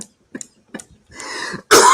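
A person coughs in a few short, scattered bursts, followed by one loud, harsh cough at the end, with no talk over it.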